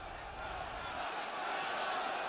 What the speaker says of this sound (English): A great roar from the home crowd